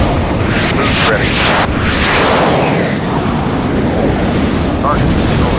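An explosion erupts as a target is destroyed in the flight combat game Sky Gamblers: Afterburner, a loud, continuous roaring blast with rumble and crackle that fills the whole stretch.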